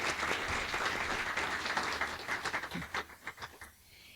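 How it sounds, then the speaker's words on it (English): Audience applause at an evening college lecture, a dense sustained clapping from a crowd that thins into scattered individual claps before fading out. "So everyone, join me in a round of applause to thank Kit."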